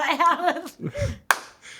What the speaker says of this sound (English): We're breaking the Australian boxing champ with a clap